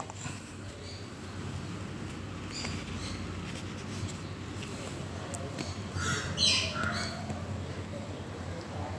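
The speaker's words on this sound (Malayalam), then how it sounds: "ബംഗാളി ഫിഞ്ചസിൻ്റെ ഒരു ബാച്ചാണ് ഇതിനകത്ത്" A batch of twelve adult Bengalese finches in a cage gives faint, scattered chirps over a steady background hiss, with a brief cluster of sharper calls near the end.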